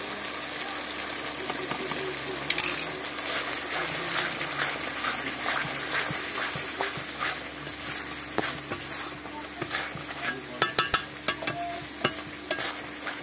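Coriander, cumin and chili powder sautéing in a pan for paneer curry, a steady sizzle with scraping stirs and a few sharper clinks toward the end.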